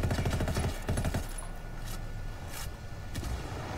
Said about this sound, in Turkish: Evet, tanker şu an patladı.